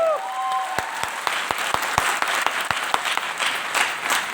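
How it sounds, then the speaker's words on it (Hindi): Audience at an event in Jabalpur claps enthusiastically, with many distinct, sharp hand claps standing out from a broader crowd wash. A brief electronic whistle sounds at the start, and there is no clear talking. "तो जोरदार तालियां दोस्तों, एक बार आप अपने लिए बजाइए।"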